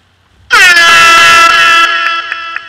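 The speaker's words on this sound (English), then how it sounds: "That's the famous reggae horn." Reggae air horn DJ sound effect, a sudden loud blaring horn blast that holds steady for over a second, then trails off into a few faint echoing pulses, alone.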